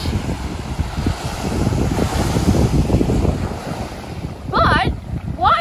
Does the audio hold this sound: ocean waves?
yes